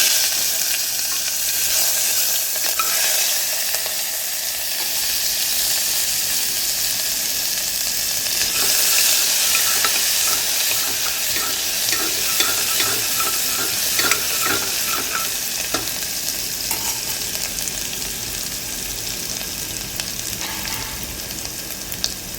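Curry leaves and a ground paste of chili and garlic sizzle loudly in hot oil as a tempering for mixed dal. The spattering crackle runs steadily for a long stretch, close up and with stirring, with no talk.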